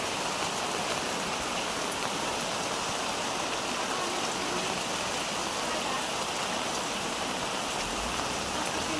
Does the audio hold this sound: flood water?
yes